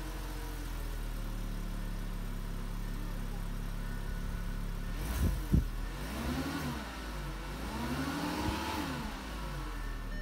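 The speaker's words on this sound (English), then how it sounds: "When you do push to start, you have to press and hold until it starts." A 2013 Volkswagen Beetle Fender edition starts by push button after a low steady hum, cranking and firing about halfway through, then settling into a close idle with a couple of gentle revs.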